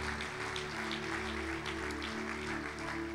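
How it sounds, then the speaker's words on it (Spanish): A church congregation applauding, with a steady wash of clapping that stays moderately loud and even over a sustained low tonal hum of organ or keyboard. "Dele un aplauso al Señor."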